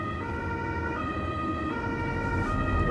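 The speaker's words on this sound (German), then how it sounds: "Zum Glück machen die anderen Verkehrsteilnehmer heute sofort Platz für den Rettungswagen" An ambulance siren sounds in Munich traffic, a steady wailing tone carried over the rumble of the vehicle's engine, close and continuous with no talking.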